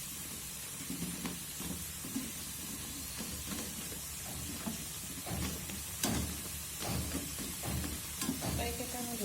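Boondi droplets of chickpea batter frying crisp in hot oil for motichur laddu, a steady low sizzle with occasional stirring clinks and scrapes running through, close by and moderately loud.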